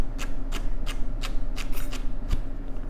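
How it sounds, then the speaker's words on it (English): Knife chopping celery into strips on a cutting board while making corn chowder, with about eight evenly spaced crisp taps over a steady low background hum, close and moderately loud. "And for the celery, we do basically the same thing. We're going to cut into little strips,"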